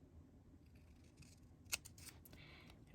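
Scissors snip through a photo to cut it in half, giving one sharp, close cutting click followed by a few softer snips in a quiet room.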